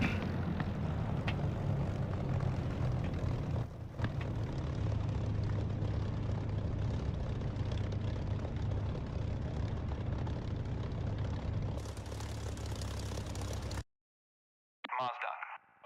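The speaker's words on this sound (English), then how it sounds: "Abort takeoff. I'm holding for Niels" A simulated aircraft engine holds a steady, loud drone on the runway in the DCS flight simulator with enemy infantry nearby, continuous for about fourteen seconds before cutting out abruptly; radio-style voices talk over it.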